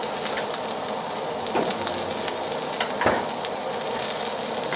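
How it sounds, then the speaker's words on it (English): Onions sizzle steadily in a hot pan as the first step of a pork belly fried rice, a continuous close frying hiss with a few faint stirring clicks and no voices. "Just adding in the onions first."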